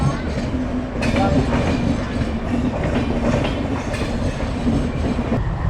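Long passenger train heading toward Dhanbad rolling slowly along the rails, a loud, steady rumble of carriages with faint rhythmic clatter of wheels and brief squeaks, heard up close throughout.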